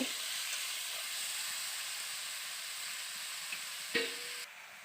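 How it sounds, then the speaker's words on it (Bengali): Bitter gourd, potato and eggplant sauté in a pan with an even, fairly faint hiss of frying and one brief clink of a utensil near the end. "এবার আমি সমস্ত উপকরণগুলো ভালো করে কষিয়ে নেব"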